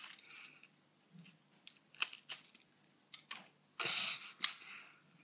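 Scissors snipping open a squishy foam toy filled with coloured beads, a few sharp separate cuts and crunchy clicks at close range, with quiet gaps between them.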